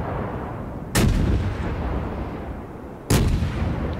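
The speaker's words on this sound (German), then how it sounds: "Warum schießt der gegen die Felsen? Der schießt gegen die Felsen." Warship guns boom in the World of Warships video game, two heavy cannon blasts about two seconds apart over a steady rumbling background of engine and sea noise.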